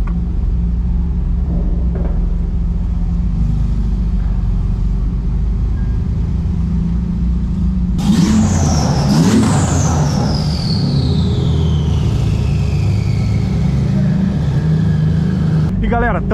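A Porsche 911 GT2 RS at a busy car meet rumbles steadily up close, then revs sharply about halfway through, with a high whine that sweeps downward as the loud engine note fades.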